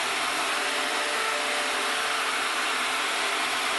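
A die grinder runs continuously against a bandsaw blade as the blade is ground, making a dense, steady, high-pitched whir close by that holds even for the whole stretch with no pauses.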